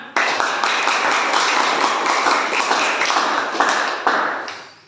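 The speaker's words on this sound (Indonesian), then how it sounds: "Tepuk tangan anak-anak" Schoolchildren in a classroom clap together in a loud, sustained burst of many overlapping hand claps that stops abruptly near the end.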